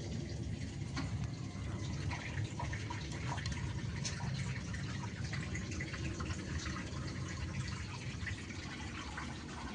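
Water draining out of a washing machine at home, a constant rushing, gurgling flow with faint drips, steady and moderately quiet for the whole stretch.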